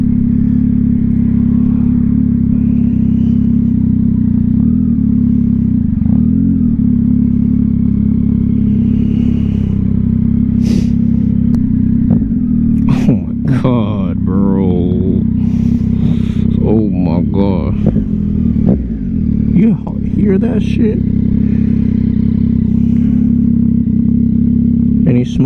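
Yamaha XSR900 fitted with a Kelpi Custom Moto shorty exhaust rumbles steadily and loud, with gear changes and blipping downshifts crackling through in the second half while a rider talks over it.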